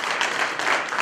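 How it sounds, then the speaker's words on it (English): A brief burst of applause from a community foundation audience thanking the ladies who supplied the food, many hands clapping steadily and fairly loudly for about a second. "I'd like to give them a round of applause for that lovely food"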